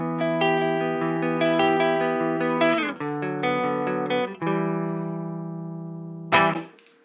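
Electric guitar through a Mesa Boogie Badlander amp on the crunch channel, played on the neck pickup: sustained, chiming distorted chords ringing out loud and alone, changing a few times before a final strum and fade.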